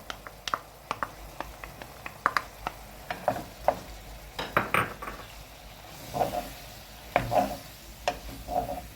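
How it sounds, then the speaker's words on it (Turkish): Chunks of meat frying with diced onion in a pan for shepherd's kavurma, with intermittent sharp clinks and scrapes of a utensil stirring against the pan over a low background sizzle. "Etimizi soğanla beraber biraz kavuralım"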